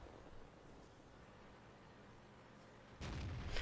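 A tank cannon fires a blind shot in World of Tanks, a single sudden boom near the end that breaks a long stretch of faint, steady hiss.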